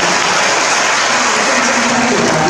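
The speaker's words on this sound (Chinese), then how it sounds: "先给他们一个掌声好不好？" A large crowd applauds a county government team at an official event in Yunlin, producing a loud, continuous roar of clapping that blurs into a hiss-like texture and stays level throughout.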